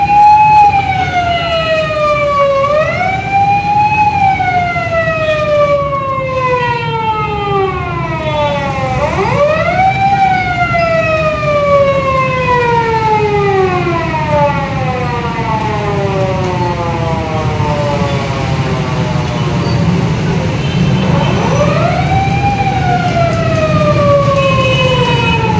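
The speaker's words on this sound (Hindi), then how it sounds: "एम्बुलेंस फंसी है इधर आके।" An ambulance siren wails through a crowded Lahore bazaar near Data Darbar, its rising and falling tone repeating steadily and loudly over the constant roar of traffic and crowd noise.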